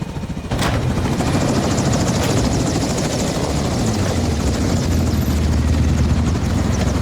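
A helicopter in a Call of Duty Modern Warfare 2 cutscene, its rotor thudding in a dense, continuous roar that starts abruptly and stays loud and close for the whole stretch, with no voices.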